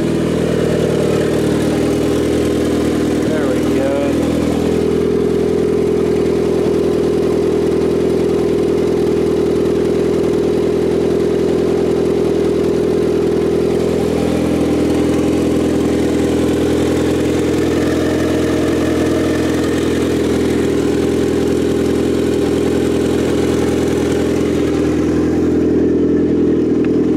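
A Honda Integra that has not run in a while idles to warm up, its engine holding a steady, loud, even drone close by, with slight shifts in pitch partway through.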